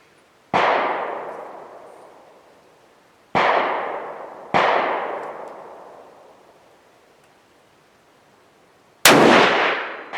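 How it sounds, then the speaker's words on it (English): Four loud, sharp rifle shots from a Thompson/Center Performance Center LRR in .308, fired outdoors at uneven intervals, each crack followed by a long echoing decay, with quiet pauses between. "50 rounds of premium 308 ammo that we put through trying to group and figure out what runs best on this gun"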